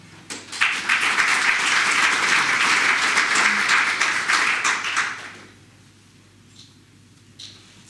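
An audience claps for about five seconds to welcome speaker Charl Gous at a commercial solar PV product launch, a dense steady applause that stops abruptly and leaves a quiet room with a few faint taps.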